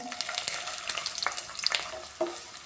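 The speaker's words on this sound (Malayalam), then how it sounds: "ഈ ഇഞ്ചി നല്ലോണം വറുത്തെടുക്കണം" Light crackling and popping of chopped ginger frying in coconut oil, with scattered sharp sizzles and a few stirring clinks, fairly close and quiet.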